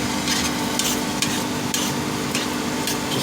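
Chile colorado stirred in a pan, a steady sizzle broken by regular scraping strokes of the spoon, close and alone.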